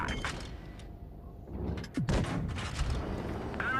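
In World of Tanks Blitz, a tank gun shot bounces off armor with a single sharp metallic impact midway through, over a dense, rumbling battle background.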